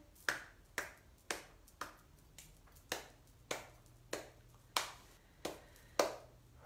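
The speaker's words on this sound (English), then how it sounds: "Keep clapping." One person claps slowly and steadily during a guided meditation, each crisp clap separate and evenly spaced about half a second apart, quiet and close with no other sound.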